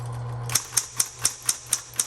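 Keys striking on a 1970s Smith Corona Electra 110 electric typewriter, seven sharp, evenly spaced clacks about a quarter second apart, close and clear, following a low steady motor hum that shifts when typing begins.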